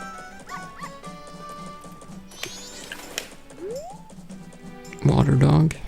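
A dog barks in The Legend of Zelda: Majora's Mask, a short burst of yips near the end that cuts in over game music and rising sound effects.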